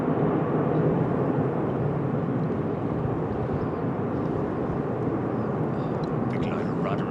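An airliner touching down on landing at London Heathrow makes a broad, loud roar of engine and rushing air that holds steady and slowly eases off, with faint talk near the end.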